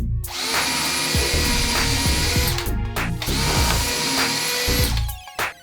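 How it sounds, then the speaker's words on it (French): A power drill bores pilot holes into a wooden stud in two long whining bursts with a short pause between, loud and close, ending in a brief wind-down with no talking. "Là maintenant je vais faire des pré-trous pour pas fendre le bois."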